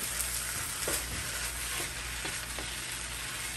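Shrimp fry in a pan of seafood fried rice, a continuous close sizzle with a few soft clicks as the food is stirred, with no talking.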